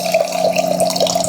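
Water pours steadily from a Waterdrop reverse osmosis filter dispenser into a jar, a close, continuous trickling stream with slight bubbling fluctuations.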